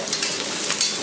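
Cauliflower stir-fried in a hot wok gives a steady, close sizzle with soft scraping and tossing, continuous and alone for about a second.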